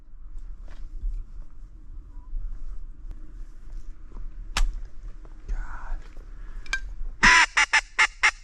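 Geese and ducks honking near a kayak duck hunter in a hidden willow hole, with faint scattered calls building to a loud burst of repeated honks close by, over a low wind rumble.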